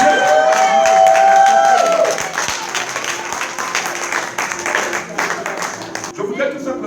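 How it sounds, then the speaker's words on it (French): A church congregation cheers and applauds in praise of the Lord, a dense wash of clapping and shouts at full strength throughout, with a sustained vocal cry or whoop riding above it near the start. "Oh, acclame-toi pour le nom du Seigneur."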